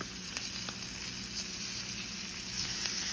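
Minced garlic, cayenne, ginger and salt hit hot oil in a pan, giving a steady, close sizzle that holds evenly throughout with only faint clicks and no voices.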